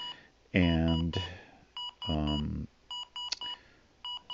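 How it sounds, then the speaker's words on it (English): An IBM ThinkPad R31 laptop with a failed system board sounds POST error beep codes, short electronic beeps repeating in groups of three, with someone speaking over the first part. "We're getting 3 beeps continuously."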